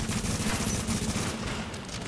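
Rapid automatic gunfire in The Division, a dense, continuous burst of shots close up with no pauses, loud and unbroken throughout.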